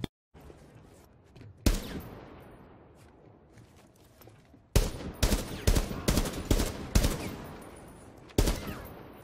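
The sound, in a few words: gunfire in the video game Rainbow Six Siege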